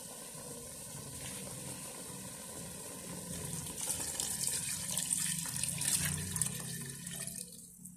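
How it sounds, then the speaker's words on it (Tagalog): Tap water runs steadily into a pot as broth is prepared for boiled pork leg, a continuous rushing splash that swells louder midway. "Lagyan na po natin ng tubig para sa sabaw"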